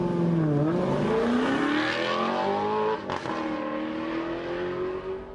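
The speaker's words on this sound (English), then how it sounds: "the Alfa Romeo 8C Spider, also dubbed as one of the best sounding cars ever." The Alfa Romeo 8C Spider's engine in a video game howls loudly as it accelerates, climbing in pitch, snapping through a quick gear change, then pulling hard again with no talking.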